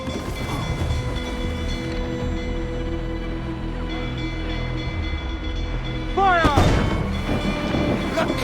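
Mortar and cannon fire from a naval battle in Assassin's Creed IV Black Flag: a steady rumbling barrage, then a louder, sharper burst of booming blasts near the end.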